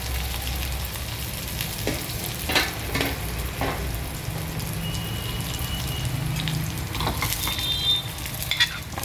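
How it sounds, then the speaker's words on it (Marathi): Chopped green chilies sauté in hot oil in a pan before raw mango goes in, giving a steady crackling sizzle with scattered scraping stir clicks throughout. "छान परतून घेऊया"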